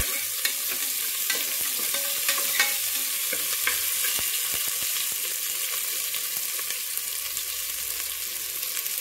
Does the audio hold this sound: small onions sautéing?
yes